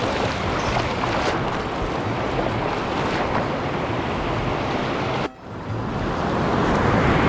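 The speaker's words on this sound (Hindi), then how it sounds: "काफ़ी बड़ी बड़ी लहरें आ रही हैं यहाँ पे" Big sea waves crash continuously on the Gwadar shore, a loud, dense roar of surf with wind buffeting the microphone and a brief dip before the rush swells again, with no voices.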